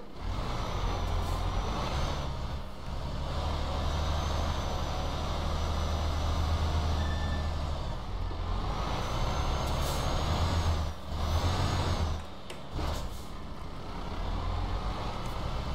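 A heavy truck in the Euro Truck Simulator game, hauling a fuel load through a narrow village street, rumbles with a low diesel drone, hisses its air brakes and sounds steady reversing beeps, loud and continuous.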